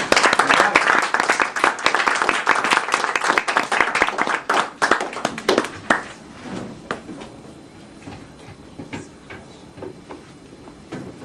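A lecture audience claps to welcome a speaker to an economics talk, a dense burst of applause that thins into scattered claps and fades after about six seconds.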